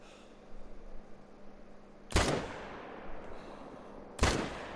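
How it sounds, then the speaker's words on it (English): Two sharp rifle shots in a deer hunting video game on a fallow deer hunt, each a loud, abrupt crack with a short decaying tail, about two seconds apart over quiet outdoor ambience. "Let's see if I can actually make a follow-up shot."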